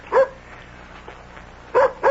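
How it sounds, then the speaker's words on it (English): Dog barks at a door in a radio drama: two sharp bursts of barking, one at the start and a closer pair near the end, with quiet room tone between. "Oh, that's Nicky at the door with my dog."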